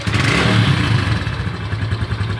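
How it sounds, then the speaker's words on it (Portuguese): A Honda Pop 110i motorcycle engine runs close by, a loud steady mid-pitched putter with a faint clattering texture and slight revving swell, heard alone. "Já tá ligada a moto"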